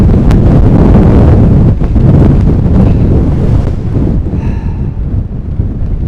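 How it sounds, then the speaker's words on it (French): Heavy wind roars and batters the microphone on a golf course in a storm, loud and unbroken throughout, with a faint voice-like trace late on. "Mais non, mais c'est un délire le vent"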